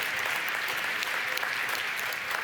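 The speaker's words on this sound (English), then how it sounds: "you can clap" An audience at a tech conference applauds, a dense, even wash of many hands clapping that holds steady throughout, with no voices rising above it.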